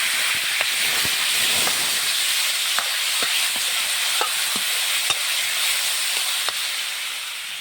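Tomato frying in a hot pan, with a loud, steady hiss and sizzle up close and scattered light clicks and scrapes as it is stirred.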